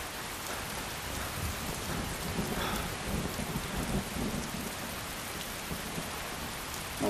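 Steady rain with rolling thunder in the video game Skyrim, a dense continuous wash of downpour with low rumbles swelling near the middle, loud and alone with no voices.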